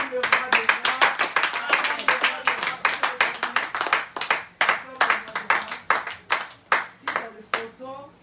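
A church congregation claps in a steady, rhythmic beat, loud and close, with voices calling out and acclaiming throughout.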